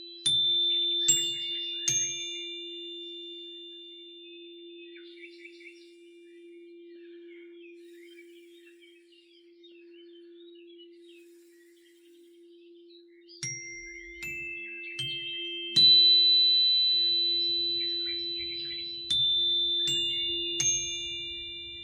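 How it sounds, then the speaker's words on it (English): Bright chimes ring out in scattered strikes with long, shimmering decays over a steady low hum, quiet in the middle and fuller toward the end. "A nice sound bath cleansing with this new moon."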